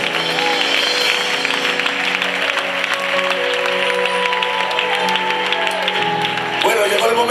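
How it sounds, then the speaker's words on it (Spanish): Church congregation at a baptism service applauding steadily, with sustained tones and voices underneath, before a speaker comes in at the close. "dale un fuerte aplauso a Dios"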